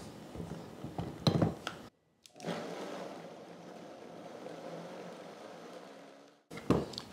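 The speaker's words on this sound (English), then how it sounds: "Going to blend this at high speed until it turns frothy." A kitchen blender whirs at high speed, blending melon until frothy: a steady, loud, rushing motor drone that runs for several seconds after a brief cutoff, framed by short clattering handling noises at start and end.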